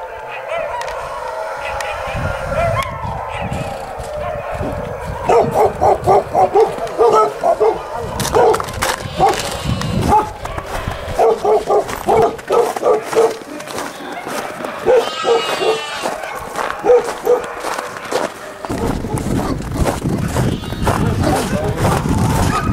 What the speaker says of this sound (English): There's Dave's new watchdog